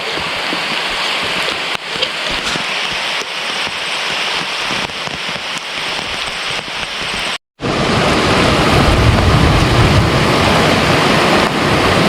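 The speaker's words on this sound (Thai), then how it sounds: "ฝนตกทุกคนตอนนี้ฝนตกทุกคน" Heavy rain pouring at night in a forest, a dense steady roar close by that cuts out briefly and returns even louder and fuller.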